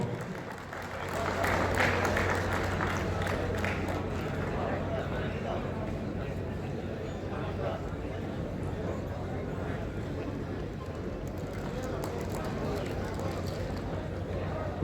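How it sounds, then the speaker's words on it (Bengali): An audience at a state conference applauds engineer Debraj Singha Roy, giving a dense, steady wash of clapping that holds for the whole stretch with a low hum beneath it. "সবাই একবার জোরে হাততালি দেবেন ইঞ্জিনিয়ার দেবরাজ সিংহ রায়ের জন্য"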